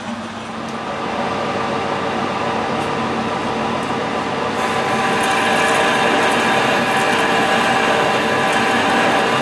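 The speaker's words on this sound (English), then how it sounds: "next thing is to part this off to length, turn it around and machine the threads on the other end" A lathe parts off a steam engine part to length with a high-speed steel parting blade, producing a steady, loud mechanical whirring and grinding hum that grows slightly louder partway through, with no talking.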